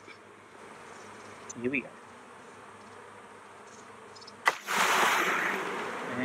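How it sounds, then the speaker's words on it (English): A swarm of bees buzzes continuously around a hive, with a low droning hum throughout. A brief voice is heard early on, and a louder, closer burst of buzzing comes near the end. "Thousands of bees."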